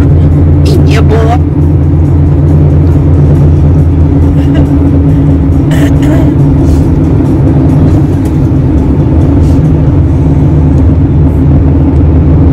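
A car drives along with a steady low engine drone and road rumble throughout, loud and close from inside the cabin, while people talk over it.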